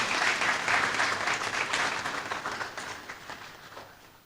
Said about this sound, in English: I will kindly ask us to welcome our distinguished chair with a round of applause.